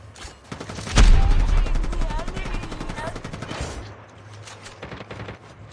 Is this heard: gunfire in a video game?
yes